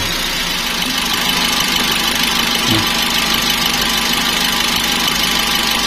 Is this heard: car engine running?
yes